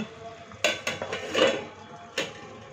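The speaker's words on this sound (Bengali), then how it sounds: "এবার আমি একটা ঢাকনা দিয়ে দিচ্ছি" A lid goes onto a cooking pot of potatoes and carrots, giving a few sharp metallic clanks and a brief rattle at close range, with no talk.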